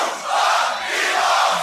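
A live crowd at a Grand Beatbox Battle 2023 loopstation event shouts in unison, a loud, dense roar of voices that swells and holds for a moment, like a call-back countdown.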